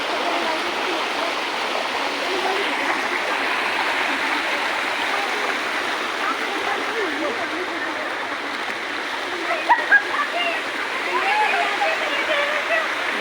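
A river stream rushes steadily close by while someone wades through it, producing a continuous broadband flow with faint splashes, and voices can be heard over it.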